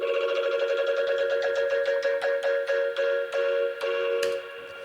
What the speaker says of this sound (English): it's literally just a square wave